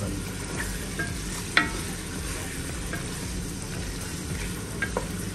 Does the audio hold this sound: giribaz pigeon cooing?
no